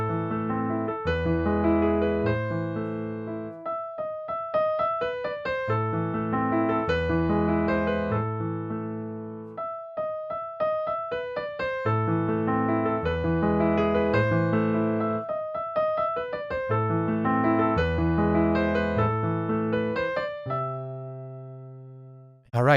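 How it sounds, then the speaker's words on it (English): Solo piano plays Beethoven's Für Elise as a beginner-lesson demonstration, its flowing arpeggiated melody continuous and close for the full length with no voice, ending in a held chord. "in this lesson we'll learn how to play Für Elise."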